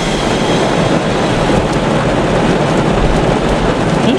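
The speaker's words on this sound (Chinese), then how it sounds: "下着外面下着暴雨" Heavy rainstorm drums on the roof of a Honda Jazz converted into a camper car, a loud dense roar heard from inside that stays steady throughout with no voices.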